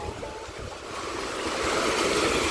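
Surf rolling onto the shore beside an old, half-ruined seaside house, a steady broadband wash that swells gradually louder, with wind buffeting the microphone.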